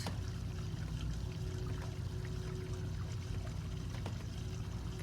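Waste water gushes steadily out of an RV black tank drain, a continuous rushing pour with a low rumble that holds constant from start to finish.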